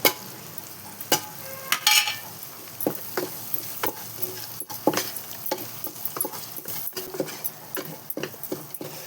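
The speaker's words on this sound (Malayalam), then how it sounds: "ഇനി ഇതിലേക്ക് നമ്മൾ പൊടിച്ച് വെച്ച മസാല കൂട്ടുക" Ground masala frying in oil with softened cooked tomatoes for Kerala-style beef peralan gives a close, soft sizzle with scattered stirring scrapes and clicks, steady and fairly quiet, with no talking.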